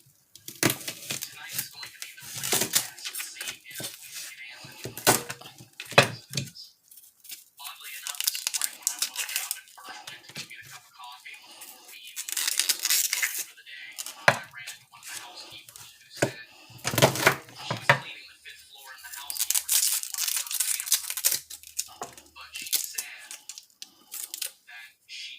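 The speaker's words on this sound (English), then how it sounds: "now I'm just going to roughly chop up this onion" A knife roughly chops onion on a board for Puerto Rican sofrito, with irregular bursts of crisp cutting and rustling separated by brief pauses, close and fairly loud.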